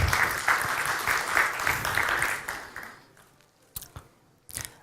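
Audience applause at a startup pitch competition at a startup fair, fairly loud at first and then thinning out after about two and a half seconds, ending in a few scattered, isolated claps.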